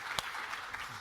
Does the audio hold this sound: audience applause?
yes